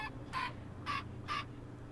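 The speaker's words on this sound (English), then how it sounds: "Oh, chicken! Chicken!" Chicken in a video game, three short clucks evenly spaced over a low background hum, close and clear, with no talk.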